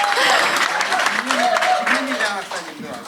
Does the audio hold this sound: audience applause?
yes